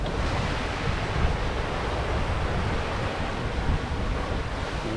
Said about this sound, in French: les vagues qui viennent de travers